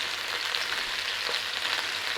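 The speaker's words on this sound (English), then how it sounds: "They're all going to be fried together." Skinless beef sausage frying in oil in a single pot, with onions and garlic added: a steady, close sizzle with faint crackle, continuous and even throughout.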